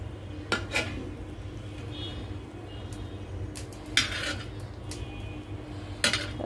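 A metal utensil scraping and clanking in a pot of biryani while pushing in fried potatoes: a few sharp close knocks and scrapes spaced through a steady low background hum.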